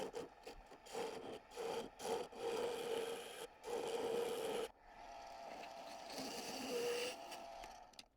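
Small brass ferrules are cut to size in a saw-making workshop, making rhythmic back-and-forth sawing strokes, quiet and close, followed by a longer steady rasping pass.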